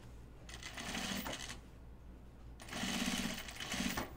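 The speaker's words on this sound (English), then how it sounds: "You're going to sew 1/4 inch seam allowance." Sewing machine stitching a quarter-inch seam on a pocket bucket, two bursts of rapid, even needle chatter separated by a short pause, close and fairly quiet.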